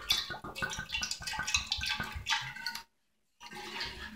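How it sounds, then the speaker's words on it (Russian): Wine is poured into a glass decanter in a steady close splashing stream for nearly three seconds, cut by a brief silence and then a softer trickle of liquid. "Вот мы сюда выливаем вино."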